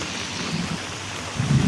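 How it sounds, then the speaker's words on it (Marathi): Heavy rain pours down steadily with a low rumble of thunder building toward the end, loud and continuous with no voices. "पुन्हा एकदा पाऊस सुरू झालो मोठो"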